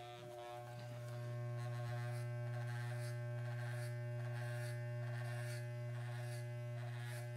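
Electric hair clippers set to 1/8 inch cut hair during a home haircut, with a close, steady motor buzz and faint rustling textures running continuously throughout.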